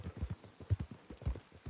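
Horse hooves clip-clopping at a steady walking rhythm in the video game Red Dead Online, close and clear, with no talk over it.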